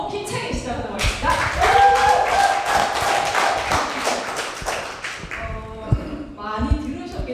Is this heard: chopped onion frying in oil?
no